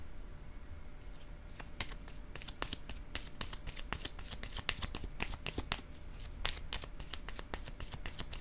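Tarot cards being shuffled by hand, a run of crisp riffling snaps and flutters repeating irregularly at close range, quiet overall with no talking over them.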